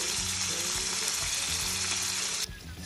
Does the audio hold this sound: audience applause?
no